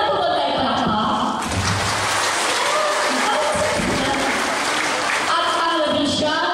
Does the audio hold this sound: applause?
yes